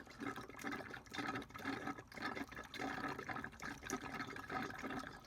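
AdBlue diesel exhaust fluid pours into the tank of a Land Rover Evoque, a continuous gurgling, glugging liquid flow with rhythmic bubbling surges, close and fairly loud.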